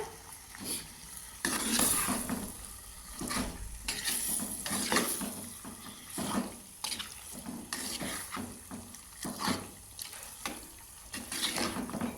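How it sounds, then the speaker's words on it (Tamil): Boiled pasta is stirred into a thick coconut milk sauce in a pan, giving steady wet scraping and sloshing sounds with a soft sizzle underneath, close and moderately loud, with no voices. "அவிச்சு வச்சுருக்கிற பாஸ்தாவை வந்து அதுக்குள்ளே போட்டுக்கோங்க. போட்டு மிக்ஸ் பண்ணி விடுங்க."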